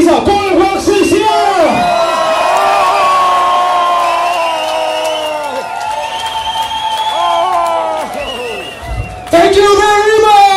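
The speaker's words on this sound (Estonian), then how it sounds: "Come on, teeme ühe suure, suure kisa." A large crowd at a hard-dance club event shouts and cheers loudly and continuously over booming music, voices surging into a sustained roar before swelling again near the end.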